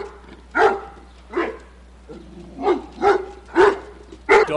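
A dog barks in six or seven sharp, fairly close bursts at an irregular pace, some yippy and whining, over a low steady background hum.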